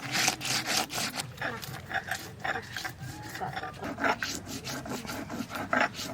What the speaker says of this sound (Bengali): এর সঙ্গে একটু সর্ষের সঙ্গে একটু কাঁচা লঙ্কা বেটে দেবো